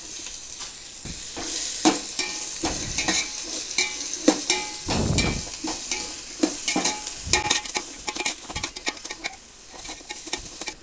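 Chopped onion frying with cashews and ginger in a pan for coconut milk rice, a constant sizzle broken by repeated scraping stirs of a spoon against the pan, with no voices.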